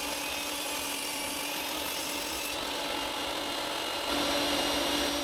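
Table saw with a stop block on a sled cutting wood pieces for a kitchen paper holder, a continuous close whirring, rasping cut that grows slightly louder near the end.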